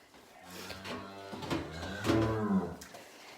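Cow mooing just after calving on a farm, a few drawn-out low bellows swelling and fading over a few seconds, close and fairly clear with faint background noise.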